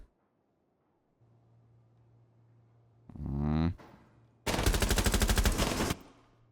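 Automatic gunfire from a video game gun fitted with an extended barrel and laser, a short burst followed by a longer, louder sustained rattle of rapid shots, close and dominant over a low steady hum.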